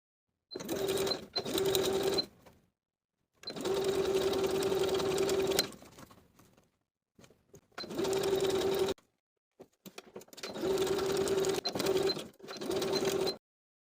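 A sewing machine sewing a wide zigzag stitch on swimsuit foam cup pieces with stabilizer, running in four steady bursts separated by brief silences and faint handling clicks, close and clear.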